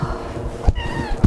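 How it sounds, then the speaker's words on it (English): A cat meows twice in quick, short calls while playing with a cable indoors, close and clear with soft rustling in between. "my cat is going crazy. No, he's playing with the cable."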